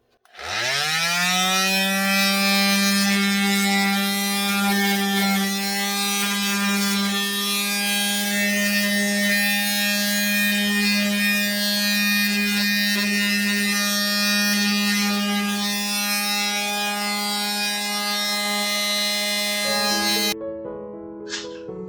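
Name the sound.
electric sander distressing an antique farmhouse desk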